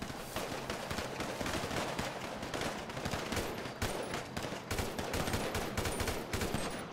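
Sustained, dense gunfire rattles without pause in GTA V roleplay, rapid automatic bursts overlapping into a continuous loud barrage with no voices.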